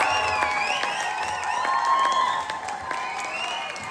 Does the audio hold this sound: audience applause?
yes